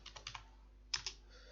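Keystrokes on a computer keyboard while working in ProjectLibre project-planning software: a quick run of four light taps, a pause, then two sharper clicks, close and quiet against a faint background hum.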